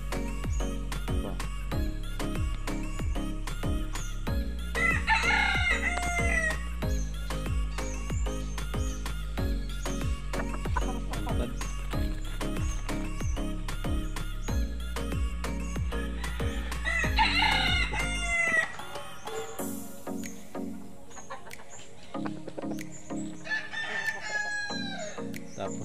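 Roosters crowing at a gamecock farm, several loud cock-a-doodle-doo calls repeating over a pulsing mechanical drone, which cuts out near the end, leaving quieter clucking and one more crow.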